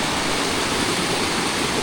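A rain-fed seep stream rushes steadily, a dense, even wash of flowing water close by with no other sounds.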